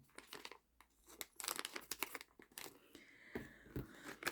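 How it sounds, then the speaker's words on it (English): Scissors snip and tear through plastic and cardboard toy packaging at close range, with a run of crisp cuts, crinkles and rips in irregular bursts. "Ooh, we do have a tear strip that doesn't want to tear, so I'm just going to open it with my scissors."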